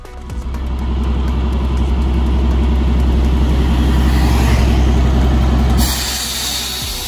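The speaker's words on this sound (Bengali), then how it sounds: "চোখে পড়ল ইউনেস্কো রেকগনাইজড ওয়ার্ল্ড হেরিটেজ আমাদের ব্রাইট টয় ট্রেন" The Darjeeling Himalayan Railway toy train passes close by in the Rohini hills, a loud, steady low rumble that builds over the first second, holds, then eases off near the end.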